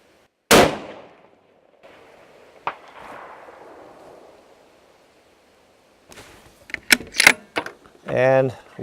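A 6.5 Creedmoor rifle fires one sharp, loud shot at a 550-yard target, followed by a long fading rumble as the report rolls away, then some clattering handling noise and someone talking afterward.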